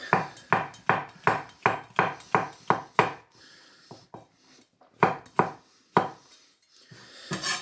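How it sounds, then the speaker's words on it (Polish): A knife slices button mushrooms on a cutting board for Polish hussar-style pork neck roast, with a steady run of close, crisp chopping strokes, a brief pause, then a few more cuts. "kroimy kilka pieczarek"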